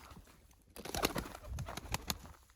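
Soft coos and rustling from a young pigeon, with a few sharp flutters of wings close by against a quiet background.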